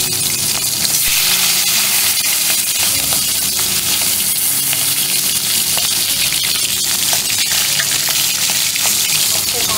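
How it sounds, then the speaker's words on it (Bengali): Fish heads fry in hot, smoking oil, giving a loud, dense, unbroken sizzle that stays close and even throughout, with no talking. "তেলটা গরম হয়ে গেছে, ধোয়া উঠছে, তো এবার আমি মাছের মাথাগুলো এর মধ্যে ছেড়ে দেব"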